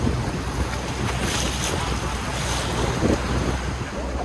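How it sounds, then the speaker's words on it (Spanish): A loud, constant roar of strong river currents at a waterfall where the Orinoco and Caroní rivers meet in Venezuela, mixed with heavy wind buffeting the microphone, with no voices. "Aquí sí no nos podemos acercar porque está muy fuerte, miren esas corrientes."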